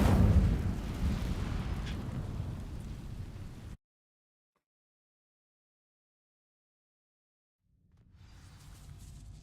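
Incendio fire spell cast in Hogwarts Legacy, a loud rushing, crackling burst of flame lasting several seconds, cutting to silence, then a quieter roar of fire returning at the end.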